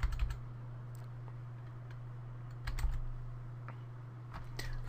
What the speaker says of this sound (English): So we'll quickly type this in, as quick as I can because I haven't got my glasses on.